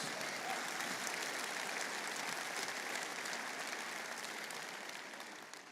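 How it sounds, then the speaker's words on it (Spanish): A church congregation at a Spanish-language service claps in steady, sustained applause that fills the room, then gradually fades toward the end. "Alguien que lo reciba, aplauda a Dios."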